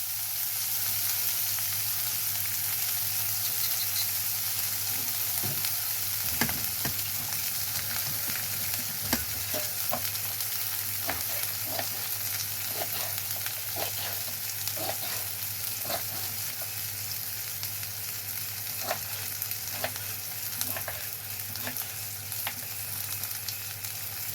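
Chopped onion and asafoetida powder fry in hot oil with cumin for bisibele bath, a steady close sizzle with scattered crackles and a few stirring scrapes running throughout, no voices.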